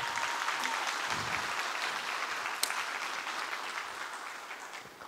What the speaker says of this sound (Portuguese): Uma salva de palmas aqui para o José, pessoal.